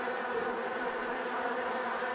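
Bees buzz in a video game, a dense, steady insect drone that fills the whole stretch at moderate loudness with no voices over it.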